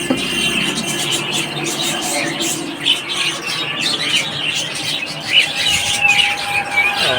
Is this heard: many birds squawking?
yes